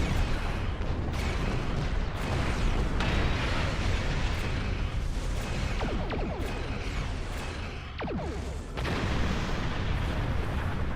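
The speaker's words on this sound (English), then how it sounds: "Though I see some of their torpedoes are about as accurate as mine." Torpedo explosions in the Star Trek Online space game, a dense, continuous roar of booming blasts with several sharper bursts layered over a steady loud wash of battle noise, no talking.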